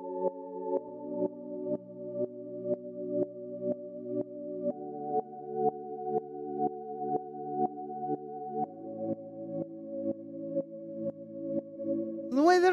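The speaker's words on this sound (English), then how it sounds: "So the next sound we have here is this organ" A synth organ in a melodic techno track plays sustained chords that follow the chord progression, pumping in a steady rhythm from kick sidechain compression and changing chord every few seconds, with a short rising sweep at the end.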